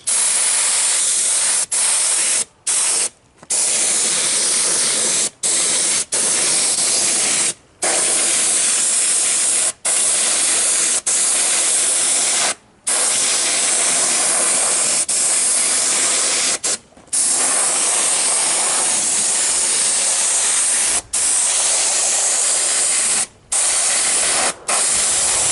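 Spray gun laying tooling gel coat onto a quarter-scale truck, a loud continuous hiss running steadily through the whole stretch, cut by brief pauses where the trigger is released.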